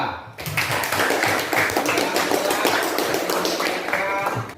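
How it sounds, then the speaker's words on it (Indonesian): Classroom clapping for a student group during a religious education lesson, a dense burst of hand claps running several seconds after a brief pause, close and steady, with children's voices mixed in. "tepuk tangan untuk kelompok 2"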